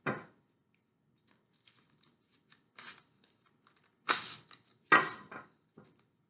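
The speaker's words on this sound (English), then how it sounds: "Let me shuffle these" Tarot cards being shuffled by hand, a quiet riffle at the start followed by a few short bursts and two louder rustling flurries near the end, close and alone without talk.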